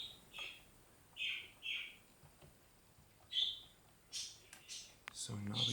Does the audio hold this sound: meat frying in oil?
no